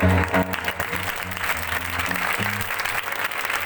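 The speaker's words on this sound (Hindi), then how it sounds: "आप उसके लिए तालियां बजा रहे हैं" A worship congregation claps steadily and fairly loudly in a Karachi church service, a dense wash of many hands with a faint voice underneath.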